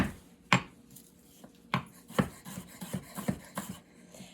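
A knife chops an onion on a cutting board in a run of sharp, close knocks, first spaced out and then quickening into an irregular burst of cuts, with no talking over it.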